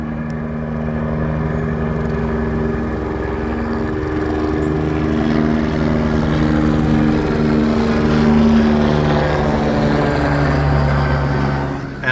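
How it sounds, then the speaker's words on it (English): Helicopter flying overhead at night in Los Angeles, a loud steady rotor drone with a low pulsing hum, swelling slightly as it passes over and holding throughout. "I'm hearing the helicopter again."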